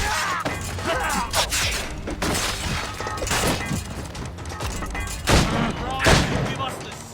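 Gunfire and crashing booms in the naval combat of the video game Assassin's Creed Rogue, bursts of shots and impacts over several seconds, mixed with shouting voices and battle noise.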